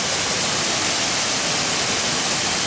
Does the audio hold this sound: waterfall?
yes